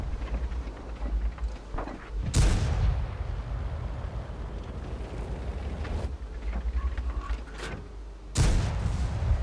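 Several loud, sharp cannon blasts from a tank in World of Tanks ring out at irregular intervals over a low engine rumble, each with a booming tail.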